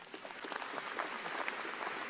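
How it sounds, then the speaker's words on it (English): Applause from an audience at a university civil and environmental engineering graduation celebration, a steady even wash of clapping, fairly quiet and distant, with no voices over it. "Let's have a round of applause for him."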